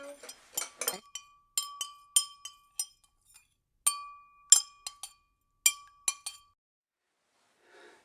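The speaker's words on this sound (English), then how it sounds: "We need to stir it for 30 seconds." A spoon taps and clinks against a glass container while elephant's toothpaste mixture is stirred, sharp, bright ringing hits coming in irregular clusters close by, then quieting near the end.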